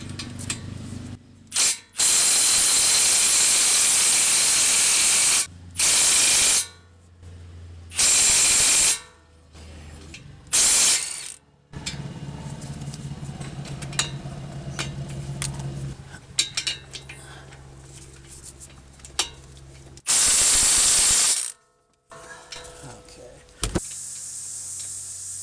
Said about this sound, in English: I'm going to try out my new Milwaukee 3/8 impact and see if